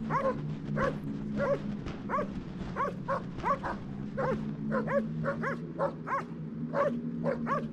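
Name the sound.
puppies yipping and whimpering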